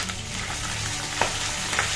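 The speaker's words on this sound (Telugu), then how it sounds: "ఎండుమిర్చి ఆవాలు జీలకర్ర కొంచెం శనగపప్పు మినపప్పు వేసి వేయించుకోవాలండి" Dried red chillies, mustard seeds, cumin, chana dal and urad dal sizzle in hot oil for a brinjal curry tempering, a loud, steady, close hiss with a couple of small pops and no talking.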